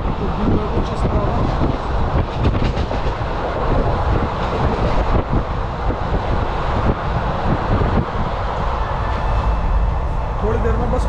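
A train runs on its rails, filling the space with a loud, continuous rumble, rattle and wind rush, with voices in the background.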